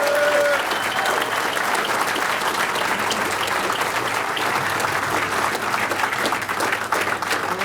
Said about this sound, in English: Let's give a warm applause for Senator Jon Tester